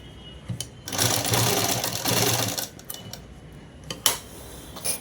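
A sewing machine stitching a double seam on a shirt: a loud, fast mechanical whirring run lasting about two seconds, then scattered ticks and clicks from the machine, with no talk.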